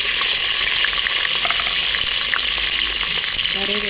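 Mustard seeds splutter in hot oil as tempering for a broad bean and potato curry, a loud, steady sizzle with scattered small pops running throughout, close by and with no voices.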